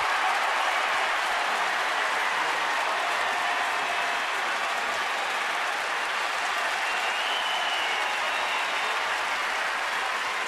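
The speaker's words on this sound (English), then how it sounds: "St. Louis fans haven't had anything to cheer about in this ballpark until right now" A large baseball crowd at the St. Louis–Washington ballpark roars and applauds steadily after Molina's game-tying home run, a dense, sustained cheer filling the stands with no break.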